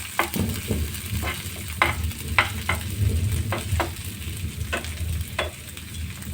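Onions and ginger fry in a pan for a spicy brinjal dish while a metal spatula stirs them, a steady close sizzle broken by several sharp scraping strokes at irregular intervals, with no talking.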